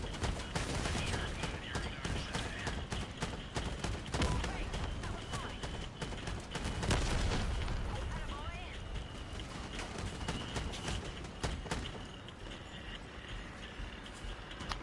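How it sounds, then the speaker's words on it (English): Gunfire in the vehicle-combat game Crossout rattles steadily through dense battle noise, with rapid bursts and impacts layered under a player's voice talking throughout. "Who the hell is shooting at me?"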